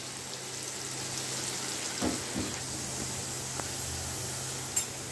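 Bitter gourd (karela) chips frying in a pan over medium flame, a steady soft sizzle with a few faint pops and clinks, no talking.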